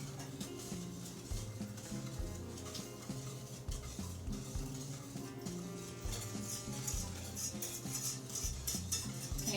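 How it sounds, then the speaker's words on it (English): Brownie batter is stirred in a bowl with a utensil, giving a busy run of scrapes and knocks against the bowl and close, steady rhythmic clatter throughout. "Go ahead, keep stirring."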